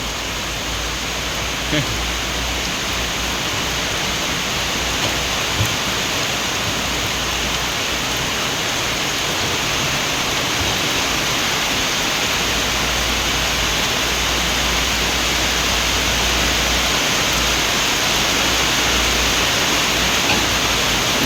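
Heavy rain pours at an excavator construction site, a dense unbroken hiss that stays loud and even throughout, with a faint low rumble beneath it.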